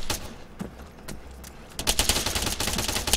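Friendly gunfire in the military shooter game ARMA 3: rapid automatic bursts crackle loudly and close, sparse at first, then thickening into sustained overlapping fire.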